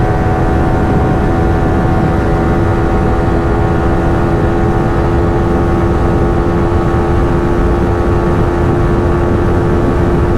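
Bajaj Pulsar 220F and Yamaha R15 V4 motorcycles racing at high speed in sixth gear, a loud, steady engine drone with heavy wind rush, unbroken and without talk.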